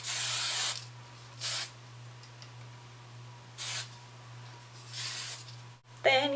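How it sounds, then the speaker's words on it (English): Hairspray from an aerosol can sprayed onto curled hair to make the curls last, heard as several short hissing bursts of differing length separated by pauses, over a steady low hum. "you definitely want to hairspray it if you plan on wearing this for more than one day"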